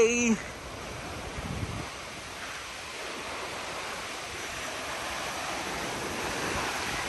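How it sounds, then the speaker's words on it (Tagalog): A waterfall in Oregon's Columbia River Gorge gives off a loud, steady broadband roar of falling water that fills the whole stretch, with a very short burst of voice right at the start. "Napaka-strong ng bagsak ng tubig"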